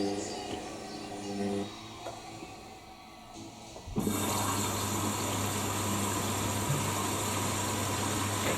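An Indesit IWC71452 washing machine on its 90°C whites programme hums with a low motor tone, then after a click a steady rush of water filling begins, with a voice talking over it early on.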